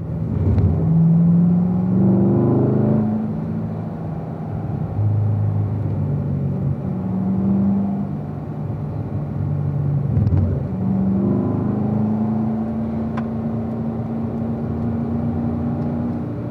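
A race car engine accelerates hard at full throttle out of a corner, its loud rising drone climbing through several gear changes with brief dips between, close and continuous throughout.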